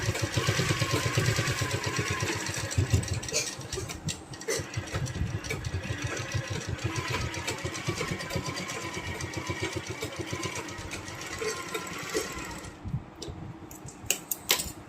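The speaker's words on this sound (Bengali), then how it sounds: "এভাবে এটাকে আমি সুন্দরভাবে সেলাই করে নিলাম" A sewing machine runs in long steady stretches, stitching the cut-down legs of full-length trousers into shorts, its fast motor-like whir close and continuous with brief pauses near the end.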